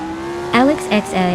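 A 1962 Lotus 2.5 race car engine in a racing video game revs in sharp, rising bursts with brief pitch jumps between gear changes, loud and close, over a steady engine drone.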